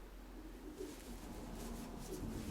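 Pigeons coo softly in a loft, low murmuring calls repeating faintly against a quiet background.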